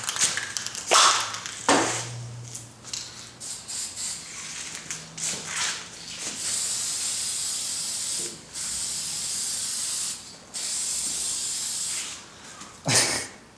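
Aerosol spray paint misting car interior trim and dash in light, fast coats, with repeated hissing bursts of varying length, some short and sharp, others sustained for a couple of seconds, close and fairly loud with brief pauses between passes.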